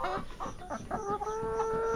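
Backyard laying hens on a farm, several birds with bright red faces, clucking in a steady run of close, overlapping calls with a few longer drawn-out notes.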